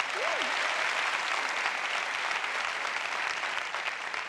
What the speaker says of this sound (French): Applaudissez pour Mbappé.